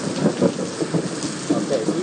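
Rain storm at One Daytona, heard as steady hiss of rainfall with soft pulsing bursts, fairly faint and continuous, with no voices.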